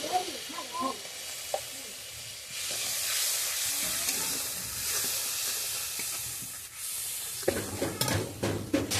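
Spices with red chili powder sizzle and hiss in a hot pan as they are sautéed and stirred, a steady close crackle with a brief voice near the start and louder scraping toward the end.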